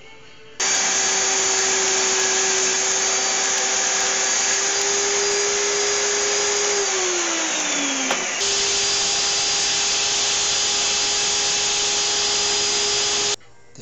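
A table saw rips wood along a rip fence to cut support brackets, running as a loud, steady whine that dips briefly in pitch as the blade loads in the cut, then recovers and runs on before stopping.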